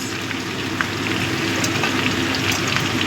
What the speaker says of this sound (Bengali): এবার এগুলো দিয়েও ভালো মতো ভেজে নেবো